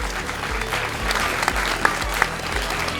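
A crowd at an evening social event for a conference claps steadily and fairly loudly for a few seconds, with faint voices mixed in.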